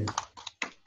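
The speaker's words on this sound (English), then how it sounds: "We can hear you typing." Close, clattery computer keyboard typing heard over a teleconference call, in short bursts of key clicks, with brief pauses between runs.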